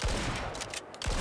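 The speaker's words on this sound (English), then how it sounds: "Warning shots." Warning gunshots in the survival video game Icarus, a short, loud burst of gunfire with a couple of sharp reports in quick succession.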